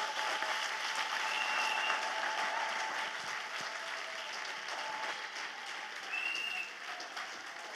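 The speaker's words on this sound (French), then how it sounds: "Let us clap together." A large audience clapping together at a national Bible camp gathering, dense continuous applause that stays loud and even throughout before easing slightly near the end.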